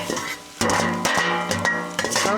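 Onions frying and caramelizing in a pan, a steady sizzle broken by repeated scraping strokes of a utensil stirring against the pan.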